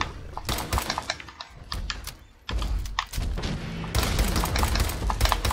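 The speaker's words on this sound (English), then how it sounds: "Keep shooting, keep shooting, keep shooting it till it dies." Gunfire at a deathclaw in Fallout 4 rattles out in rapid repeated bursts of close shots with a short lull in the middle, then denser, louder fire to the end.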